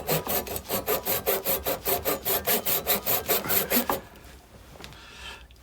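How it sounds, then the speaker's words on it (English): The fine edge of a hand saw cuts wood with about fifteen quick, regular rasping strokes. The strokes are close and fairly loud, then stop, leaving quiet. "That is the finer edge of the saw."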